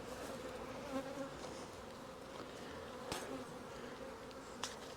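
Honey bees hum in a dense, steady drone around an opened nuc hive, close and continuous, with a few faint clicks and knocks from handling the frames.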